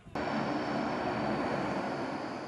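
A military transport airplane's engines roar in a steady, loud, broadband drone that starts abruptly and holds at even strength, with a faint high whine riding above it and no voices.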